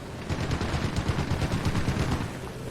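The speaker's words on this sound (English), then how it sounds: "This is the machine gun ready to go again." Dense machine-gun fire in the WWII strategy game Gates of Hell, rapid overlapping bursts rattling steadily and loudly throughout with booming low-end thumps.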